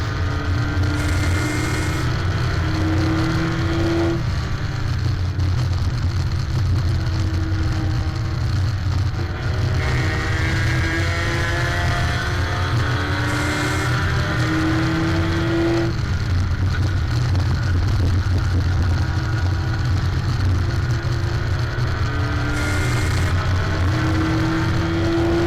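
Race cars in a 75-mile endurance race at Cedar Lake Speedway, a steady loud engine roar that rises and falls in pitch through repeated laps, heard close and without any talk.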